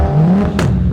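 An Audi turbocharged five-cylinder engine, fitted in a family estate car, revs briefly and loudly nearby, the pitch climbing and then dropping with a short burst of hiss.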